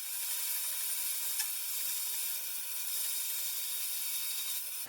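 Knife scale material, likely cocobolo wood, being cut with a saw, a steady high-pitched hissing rasp held evenly for several seconds, close and moderately loud with no talking.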